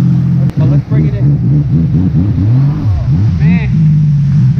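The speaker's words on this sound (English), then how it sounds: "this is the sound of exhaust." Engine exhaust of a 2018 Sea-Doo RXT-X 300 jet ski on a Florida lake, a loud droning rumble that rises and falls in pitch with throttle, with a voice speaking over it.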